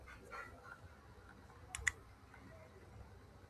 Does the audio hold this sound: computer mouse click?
yes